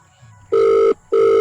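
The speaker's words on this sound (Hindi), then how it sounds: "नंबर चालू बा, घंटी जाता" Two bursts of a phone ringback tone after dialing, each about half a second with a short gap, loud and clear after a brief quiet start.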